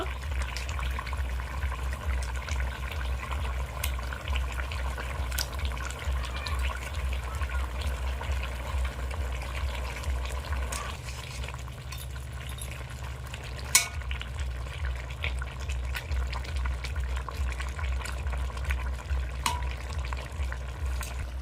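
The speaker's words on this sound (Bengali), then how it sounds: "দেখুন তরকারিটা ভালোভাবে ফুটে গেছে, আলুটাও সেদ্ধ হয়ে গেছে।" A pan of vegetable curry with potatoes, fried papads added, bubbling and simmering in a continuous low wash with occasional stirring clicks and a single sharp knock; close, steady and wordless.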